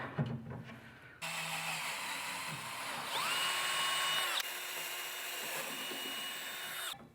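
A power drill with a quarter-inch bit whines at high speed for several seconds, loud and close, climbing in pitch as it bites and then stopping abruptly.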